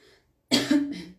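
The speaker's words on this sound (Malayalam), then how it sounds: "ചുമയുണ്ട് മക്കളെ." A single harsh cough bursts out close and loud after a short silence, trailing into a rough throaty rasp before fading.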